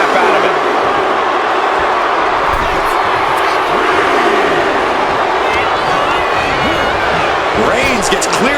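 Arena crowd noise from the WWE 2K26 William Regal versus Roman Reigns Iron Man match, a steady loud roar of cheering throughout with scattered thuds, under running commentary.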